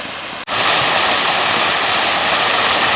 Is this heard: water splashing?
yes